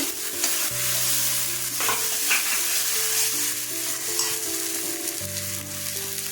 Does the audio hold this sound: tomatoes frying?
yes